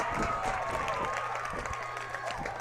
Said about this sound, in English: TC Goodman in the crowd goes wild, staying on their feet.